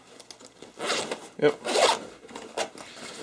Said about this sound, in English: So I assume there's a zipper over here.